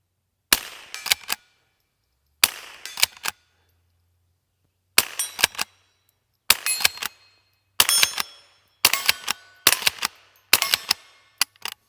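Gunshots from a pump-action rimfire rifle, fired in a series of sharp, loud cracks: single shots and quick pairs spaced across the clip, each followed by a short pause while the action is worked.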